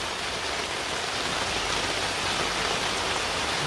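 Heavy rain pours steadily on a stormy night, a dense, loud, unbroken hiss of water with runoff spilling over edges, no voices over it.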